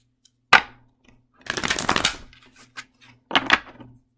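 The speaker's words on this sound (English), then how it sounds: "One more shuffle with these ones." Short bursts of oracle cards being shuffled and tapped: a sharp snap, a longer riffling flurry, then another quick shuffle, close and otherwise quiet.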